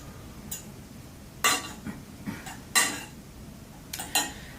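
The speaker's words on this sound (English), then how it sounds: "Just stir in that cilantro." A spoon stirs fresh cilantro into cooked rice in a pot, with a few distinct scraping clanks spaced a second or so apart, moderately close, with no talking.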